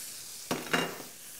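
Chicken pieces drop into hot oil in a wok for sizzling mee, making two quick hissing bursts of sizzle and a clatter, close and fairly loud, fading to a low fry.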